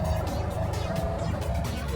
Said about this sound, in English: Sports car, a shiny car that is fast and stylish.